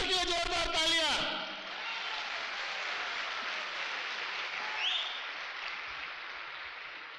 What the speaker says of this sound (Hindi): अपने लीडर के लिए जोरदार तालियां।